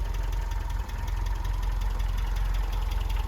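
A 1980 MGB Roadster sits at a steady idle, its engine running smoothly with an even low-pitched pulse that holds close and constant with no voices.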